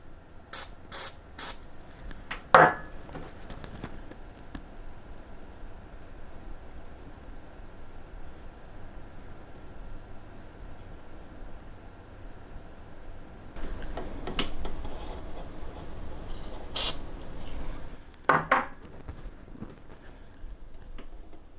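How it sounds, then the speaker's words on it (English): DeoxIT contact cleaner sprayed onto the contacts of a turntable cartridge on a Dual turntable: a few short, soft hissing spray bursts, spread apart, over a quiet room background. "I'm going to clean the contacts with a little bit of deoxit and Q-tips"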